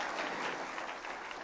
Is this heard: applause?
yes